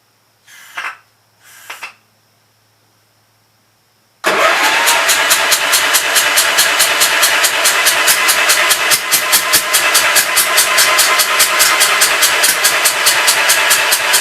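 After two short cranking bursts and a pause, the small engine of a Gravely Pro 12 with a sticking valve catches and settles into a loud, rapid, steady idle.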